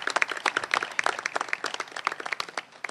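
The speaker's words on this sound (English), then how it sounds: "Can we give her a round of applause again?" An audience at a county domestic violence help line launch event claps in a short, moderately dense round, individual hand claps standing out in a lively, uneven patter for about three seconds.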